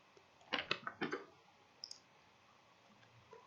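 Computer keyboard keys pressed to save a file in the nano editor, a quick cluster of four or five crisp clicks followed by a single fainter tap, close and quiet, without talk.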